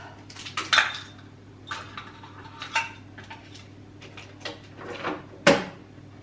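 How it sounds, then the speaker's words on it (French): Dishes and cutlery clink and clatter in scattered bursts, with a few sharper knocks, as plates and utensils are lifted out of a dishwasher and stacked nearby. "je vais ranger vider le lave-vaisselle"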